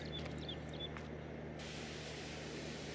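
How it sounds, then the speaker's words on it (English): Pressure washer spraying in Farming Simulator 22, a steady broadband hiss that kicks in partway through and runs continuously over a low droning music bed. "Time to spray her down."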